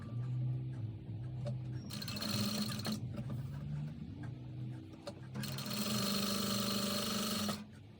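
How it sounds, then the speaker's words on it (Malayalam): Sewing machine stitching the folded neck edge of a birthday outfit, running in two steady bursts of fast, even whirring stitches, loud and close, with a lower hum between bursts and no talk. "ഇതിങ്ങനെ മടക്കി നമുക്ക് ഇവിടെ സ്റ്റിച്ച് കൊടുക്കാം."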